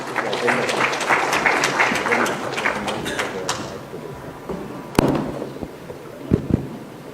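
An audience at a public-sector event with the Chief Minister applauds, dense clapping for about three and a half seconds, then fading into scattered claps and thumps with a few sharp louder hits.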